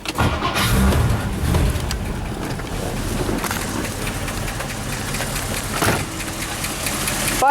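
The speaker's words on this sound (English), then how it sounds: "If I go ahead and start the car" A 1958 Edsel Citation engine cranks and catches, then settles into a steady, loud running rumble close by, with no talking.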